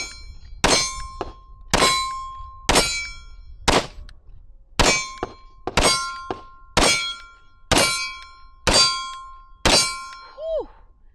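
A Taurus TH10 pistol fires about eleven sharp shots at a quickening pace, each crack followed by a bright metallic clang and ring that decays before the next shot.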